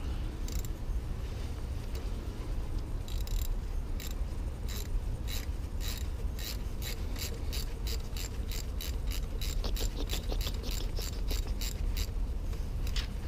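A hand ratchet clicks in rapid repeated bursts, close and crisp, as bolts are worked loose from a Honda D16Y8 transmission against a low background hum.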